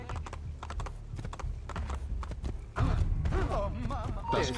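Horse hooves clip-clop steadily on a hard surface in Assassin's Creed II, with a voice talking over the second half.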